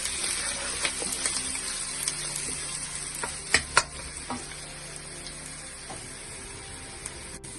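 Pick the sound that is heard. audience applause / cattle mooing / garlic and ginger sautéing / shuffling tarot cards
garlic and ginger sautéing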